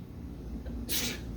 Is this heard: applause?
no